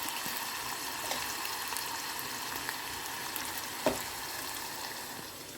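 Onions and soya chunks fry in a pan with a steady, dense sizzle that stays even throughout, close up, with one faint clink near the end and no voices.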